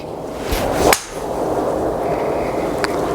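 Single sharp strike of a Cobra 3 wood hitting a golf ball outdoors at a driving range, a crisp whip-like crack near the middle followed by a faint airy trail and quiet ambient noise.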